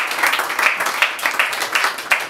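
An audience claps in acclaim of Jesus Christ of Nazareth, with moderately loud, uneven bursts of applause running throughout.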